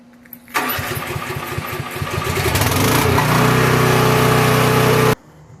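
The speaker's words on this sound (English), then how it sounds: "I always knew this generator was going to come in handy." A portable work generator cranks over with a quick series of chugging pulls, catches and roars up to a loud, steady idle, running for several seconds before abruptly cutting off.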